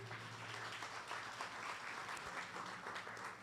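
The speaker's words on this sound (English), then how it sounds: "I want you to give yourself a huge round of applause." Steady audience applause at a KwaZulu-Natal government youth partnership launch, fairly soft and continuous with no break for several seconds.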